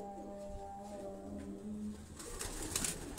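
A flock of eleven high-flying pigeons on a rooftop, with soft coos and light bird calls over a steady tonal hum, growing busier and louder toward the end.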